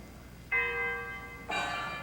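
Church bells in a small town ring out loud and close, a first strike at half a second followed by a second, brighter bell joining at about one and a half seconds, their tones sustaining together.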